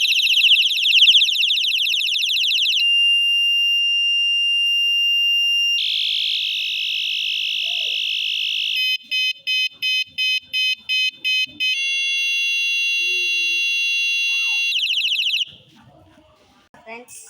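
A bicycle light's built-in alarm siren cycles through loud, piercing electronic tones close up: steady high beeps, a rapid stuttering pulse pattern, then a continuous wail, ending abruptly with faint handling noise.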